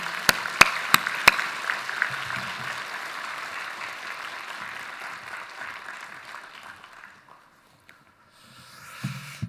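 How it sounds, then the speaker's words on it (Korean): Church congregation applauds to welcome a missionary returning from Russia, a few sharp claps first, then steady applause that fades out toward the end. "우리 박수로 우리 선교사님 맞이하겠습니다"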